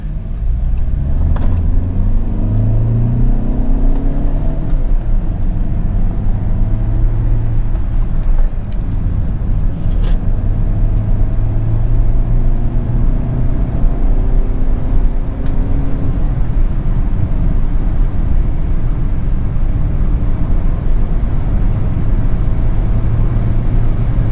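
A 2016 VW Touran 2.0L TDI minivan with a six-speed manual gearbox on the move, heard from inside as a steady, loud drone of diesel engine and road rumble throughout.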